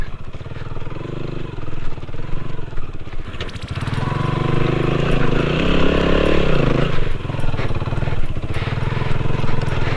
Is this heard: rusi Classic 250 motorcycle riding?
yes